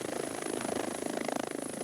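A rescue helicopter in the high mountains around Chamonix chops steadily with a rapid rotor pulse, faint and fairly distant, over a short stretch without voices.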